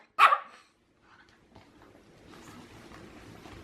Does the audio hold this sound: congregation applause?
no